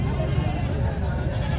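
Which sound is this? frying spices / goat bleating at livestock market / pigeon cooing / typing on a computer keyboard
goat bleating at livestock market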